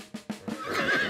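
A horse whinnies in a rising, shaky call after a few short snorting bursts, fairly close and clear with no talking.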